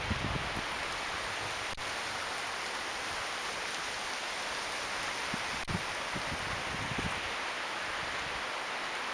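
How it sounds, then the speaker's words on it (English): A windstorm with rain on Salt Spring Island, a steady, loud broadband roar of wind and rainfall with gusting rustle and a few brief knocks; no talking. "So that's what a windstorm's like here on Salt Spring Island."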